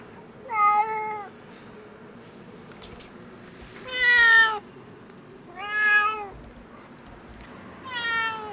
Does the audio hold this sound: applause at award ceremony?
no